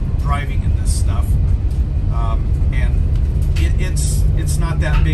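A 2023 Mercedes Sprinter 4MATIC all-wheel-drive van driving up a snowy Montana road at about 30 to 35 mph makes a steady engine and road rumble heard from inside. A person talks over it the whole time.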